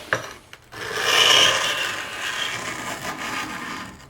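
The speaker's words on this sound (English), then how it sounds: "So I'm just going to scrape these components off." A hand scraper rasps old finish off wooden chair parts during a restoration, giving a brief tap and then a continuous gritty scraping stroke that swells and holds at close range, with no talk over it.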